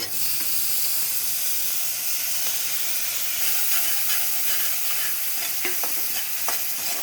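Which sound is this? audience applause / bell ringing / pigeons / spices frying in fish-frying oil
spices frying in fish-frying oil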